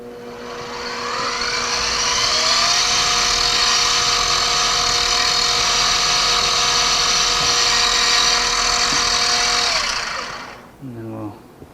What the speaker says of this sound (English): I got a spotting drill in the chuck